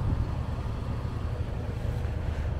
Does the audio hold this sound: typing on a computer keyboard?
no